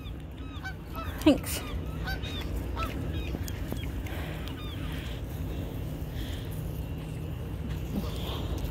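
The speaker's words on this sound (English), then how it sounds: "There's geese. Geese. Canada geese." Canada geese honk repeatedly in a mid-distance flock outdoors on a hike, calls scattered over steady ambient noise, with a brief word spoken early on.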